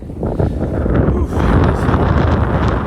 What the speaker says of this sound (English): That wind is chilly.